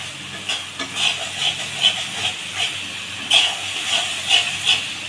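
Spice paste sautéed in oil on a low flame for a rohu fish curry sizzles steadily, with repeated scraping stirs coming in regular pulses over a constant hiss.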